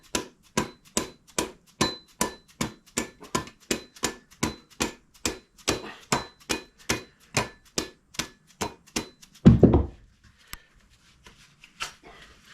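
Steady, evenly spaced hammer blows drive an axe head down onto its wooden handle for a tight compression fit, about twenty-five sharp ringing knocks in a row, then a heavier thud and brief scraping before it goes quiet.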